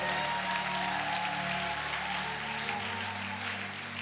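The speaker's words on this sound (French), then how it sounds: "est-ce que tu acclames le Seigneur?" A church congregation applauds and acclaims the Lord during a French-language sermon, a steady broadband wash of clapping that holds evenly for the whole stretch with no voice standing out.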